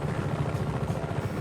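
A helicopter in a video game gives off a steady, rumbling rotor drone with a faint pulsing beat, heard alone at moderate level throughout.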